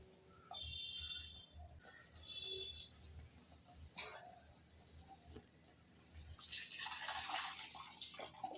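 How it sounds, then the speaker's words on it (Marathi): Hot water poured into a kadhai of fried onions for a spicy field-bean curry, a sizzling, splashing rush that swells near the end after quieter kitchen clatter. "ते पूर्ण पाणी मी ह्यात घातलेलं आहे"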